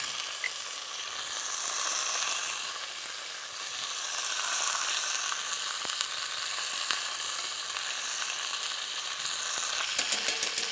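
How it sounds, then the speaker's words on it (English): Meat searing in a hot pan for Neapolitan ragu, a steady bright sizzle with faint stirring clicks, close and continuous without talking. "You know that it's searing perfectly all around."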